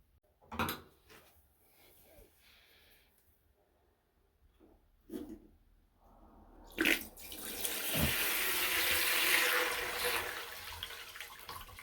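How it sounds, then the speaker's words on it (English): A bucket of murky, sediment-laden water drained from the bottom of a water heater is poured out, with a few knocks and thumps followed by a sustained splashing gush for several seconds. "So I'm going to dump this bucket out"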